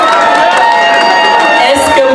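A crowd at a birthday celebration cheers and applauds for a Bikutsi singer, loud whoops and shouts forming a dense, close wash of excited voices throughout.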